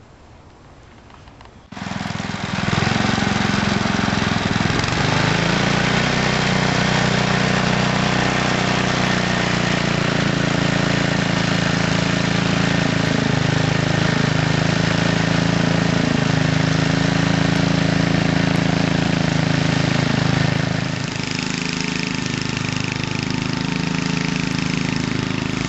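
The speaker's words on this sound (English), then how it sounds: "I'm going to go get the tiller now and we can start tilling." Garden tiller engine starting up and running steadily for tilling soil, a loud droning mid-pitched roar close by that holds constant for over twenty seconds before easing slightly near the end.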